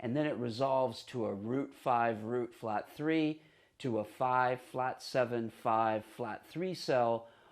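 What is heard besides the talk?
No everyday noises stand out.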